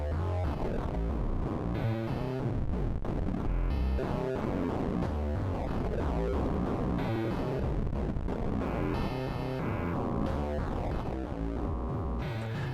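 Bastl Kastle modular synth with a triangle LFO sweeping its feed parameter, giving a dense, continuously shifting noisy tone whose timbre rises and falls in steady cycles, loud and unbroken throughout.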